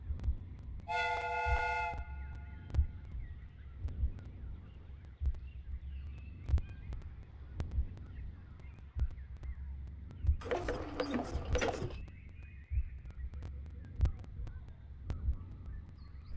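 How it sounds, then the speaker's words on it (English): Replica train steam whistle and mechanism in the Sherlock Holmes: Crimes and Punishments game; a short, loud whistle blast early, a burst of hissing steam later, and a steady low rumble with repeated metallic clanks throughout. "The steam whistle is ready to be used."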